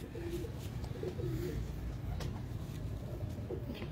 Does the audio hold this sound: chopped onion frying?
no